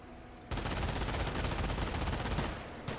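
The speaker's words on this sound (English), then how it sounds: "MG42 firing away the high ground" An MG42 machine gun in Company of Heroes opens up abruptly and fires a loud, continuous rapid burst for over two seconds, then stops briefly before a final short burst.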